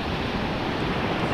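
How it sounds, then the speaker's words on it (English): Ocean surf rolls onto a San Francisco beach as a continuous broadband wash, loud and close, with some wind buffeting the microphone and no talking. "listening to the waves, just walking down the beach"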